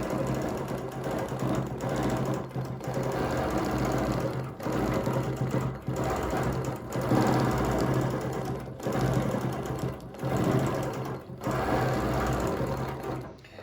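A quilting sewing machine stitches steadily across a quilt, its needle chattering in a fast, even rhythm with a low motor hum throughout. The run is continuous and close, with only a few brief dips in pace.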